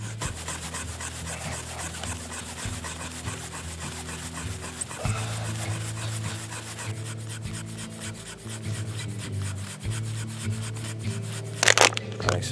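A wooden fire plow is rubbed hard along a heartwood board to make coals, a close, continuous rhythmic back-and-forth scraping that speeds up near the end.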